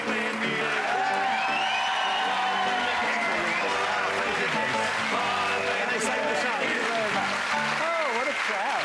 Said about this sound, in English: Oh, what a crowd. Wow. Nice crowd.